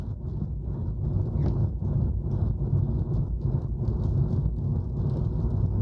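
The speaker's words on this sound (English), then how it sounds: "I love the rain, but I love to be home during the rain." Steady rain with a low, rumbling wash underneath, continuous and even throughout with no voices.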